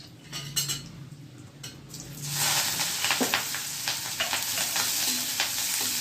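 Asafoetida tempering crackles and sizzles in hot oil, a steady frying hiss that swells after the first couple of seconds. Light stirring and utensil clinks sound close by, and nobody speaks.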